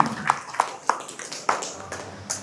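A classroom group claps in short bursts, with several distinct claps spaced apart and loose in rhythm over a faint background of room noise and low voices.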